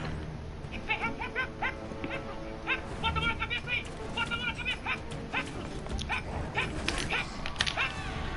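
Police dog on the hunt for a fugitive, barking and yipping in rapid, excited bursts at close range, with people talking underneath.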